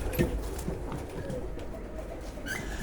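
Pigeons coo softly at a loft while being fed, low murmuring calls with a few sharper clucks and light rustling, fairly faint and continuous.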